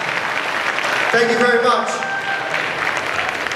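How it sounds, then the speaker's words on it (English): An audience at the Supanova Gold Coast 2016 cosplay contest applauds the Magic the Gathering cosplayers. The clapping is a steady dense wash, with a voice briefly speaking over it in the middle. "Big round of applause, guys, for the Magic the Gathering cosplayers."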